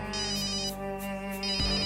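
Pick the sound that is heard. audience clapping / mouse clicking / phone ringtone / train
phone ringtone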